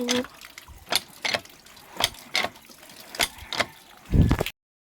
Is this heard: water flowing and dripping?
yes